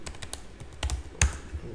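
Quick bursts of keystrokes on a computer keyboard as a search query is typed, close and crisp, a short run of taps over a couple of seconds.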